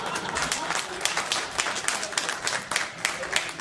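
An audience at a cultural forum on literature, language and translation applauds, with steady dense clapping sustained throughout and a voice speaking over it.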